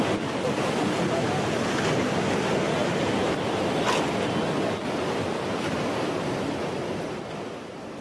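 Floodwater rushing near China's Three Gorges Dam on the Yangtze after record rain, a dense, continuous broadband roar that holds steady throughout and eases slightly in the final second.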